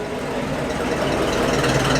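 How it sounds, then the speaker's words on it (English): A 1920s vintage car, a Humber 12 with a torquey four-cylinder engine, runs at a steady close idle or low rev, rumbling continuously at a fairly even loudness with no talk over it. "Lovely torquey 4-cylinder engine."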